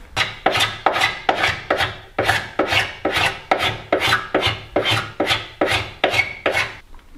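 A scraper rasps steadily over painted kitchen cabinet wood: about sixteen strong, rhythmic strokes, close and loud, each a bright grinding scrape followed by a brief pause, with no talking.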